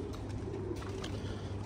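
Soft cooing of newly arrived pigeons kept by a bird fancier, a few faint low coos over steady background hiss, with no voices.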